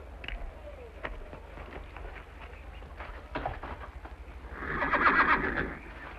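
A horse whinnies loudly near the end, a high shaky neigh, after scattered knocks and faint background sounds.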